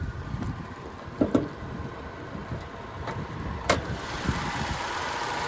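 A 2020 Honda Civic Sport's 2-liter naturally aspirated four-cylinder engine idles steadily with a low mechanical hum, interrupted by a few brief clicks and taps nearby.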